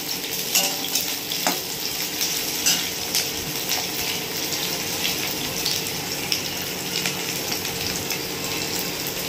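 Oil heating in a kadai, a wok-like pan, sizzles steadily throughout, with occasional light scrapes and clinks of stirring and no talking.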